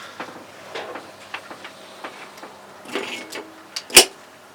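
1966 Thunderbird starter solenoid relay being tested on a bench: scattered faint clicks and rustles, then a single sharp, loud metallic clack as it pulls in.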